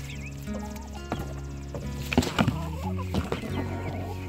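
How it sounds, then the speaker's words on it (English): Young Barred Rock and Rhode Island Red chicks cluck and peep in an enclosure at close range, a busy run of short chirps and clucks with a few sharper bursts midway. "I hear them in there. Hey, chicks."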